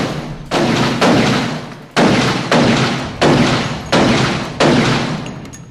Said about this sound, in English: fired a couple of rounds into some of the incoming phantom agents